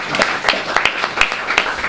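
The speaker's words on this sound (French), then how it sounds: "pouvez l'applaudir déjà" Brief audience applause for a speaker at a talk, sparse separate hand claps in an irregular rhythm, moderately loud and close, lasting under two seconds.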